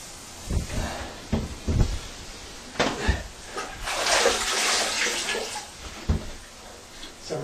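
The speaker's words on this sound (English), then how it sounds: "So I'm rinsing that out with the clear water" Water sloshes and splashes in a bucket of clean water as a grout sponge is dunked and squeezed repeatedly, in irregular bursts, close by.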